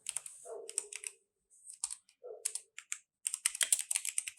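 Rapid computer keyboard typing for renaming objects in Blender, quick clustered key clicks in bursts with brief pauses, close and clear, no talking.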